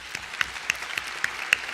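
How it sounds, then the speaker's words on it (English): Sparse, scattered claps from a small audience at a Hong Kong tech conference panel, a handful of distinct hand claps spread unevenly over a quiet background. "Let's give them a round of applause."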